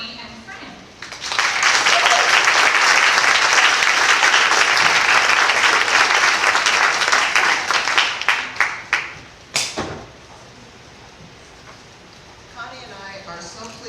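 A book-signing audience breaks into loud, sustained applause that swells for several seconds, then thins into scattered claps and fades as a voice begins speaking.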